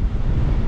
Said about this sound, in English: It's a windy day